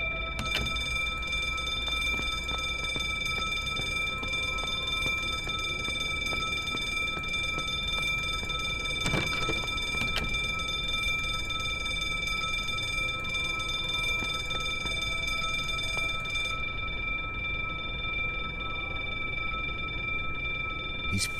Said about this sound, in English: He's fiddling with the alarm